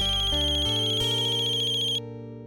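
A phone ringtone plays alone, a bright stepping electronic melody with a few changing notes over about two seconds, then cuts off, leaving a faint tail.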